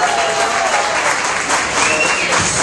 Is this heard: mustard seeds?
no